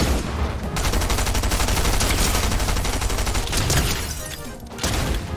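Sustained rapid gunfire in Fortnite, loud and dense like automatic weapons, nearly continuous with a brief pause before a final burst.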